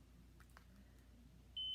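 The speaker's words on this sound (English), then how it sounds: "place the test strip in the top and it'll beep" A Contour Next One glucose meter gives a single short, high electronic beep as a test strip is inserted, heard faintly near the end over a low background hum.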